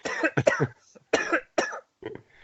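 A series of harsh, close coughs in quick bursts, with short pauses between them, followed by a fainter cough or two at the end.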